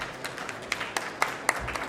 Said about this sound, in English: Round of applause for Ruth.